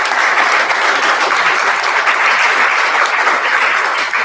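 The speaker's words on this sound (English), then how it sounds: "Big round of applause for these guys" A crowd at an HDDG #7 gathering claps loudly and continuously, a dense, even wash of applause lasting several seconds with no talking.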